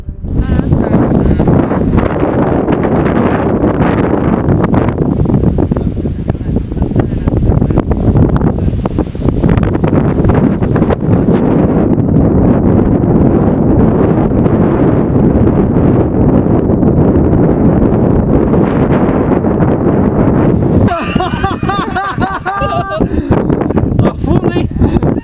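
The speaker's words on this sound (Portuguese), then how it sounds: "É, olha o vento e o frio aí, ó." Strong wind buffets the microphone at a zipline construction site, a loud continuous roar with gusting swells for the whole stretch, while a few workers' voices come through faintly near the end.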